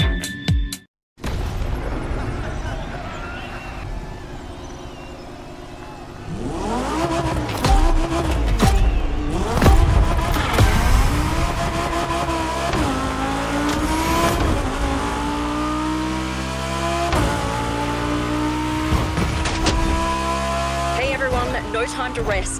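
A Lamborghini Egoista in The Crew Motorfest racing game revs hard and accelerates, its engine note rising and falling through gear changes after a short silent gap, loud and continuous with some tire noise.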